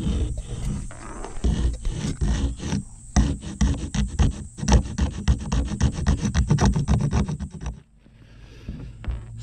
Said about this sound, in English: What I'm going to do now is scrape this along and just really try and get a deep V